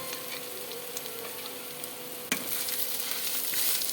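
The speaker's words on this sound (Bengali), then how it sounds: "এই নারকেলের যে মশলাটা মশলা বলতে কাঁচামরিচ পেঁয়াজ এগুলো দিয়ে যে কষাই কষাইতেছি" A coconut spice paste with green chilies and onions sautés in a pan for crab bhuna, giving a steady close sizzle and frying hiss with a brief stirring scrape partway through.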